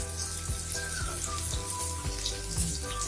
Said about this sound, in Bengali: মশলাটাকে কষতে দেবো যতক্ষণ না পর্যন্ত মশলা থেকে ভালো মতো তেল বেরিয়ে আসে